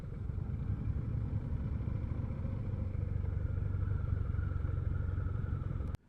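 A dirt bike motorcycle engine runs steadily and close by, a continuous rough mid-pitched drone with rapid pulsing, ending abruptly with a click.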